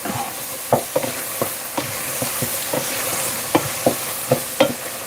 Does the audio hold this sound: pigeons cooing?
no